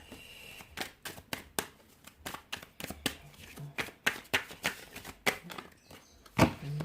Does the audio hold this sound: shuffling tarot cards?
yes